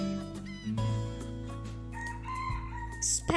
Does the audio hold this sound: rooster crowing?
yes